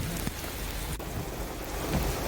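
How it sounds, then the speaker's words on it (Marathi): Heavy rain pours down steadily as a dense, loud hiss of drops drumming on surfaces outdoors, with no voices over it. "मुसळधार पाऊस झालाय"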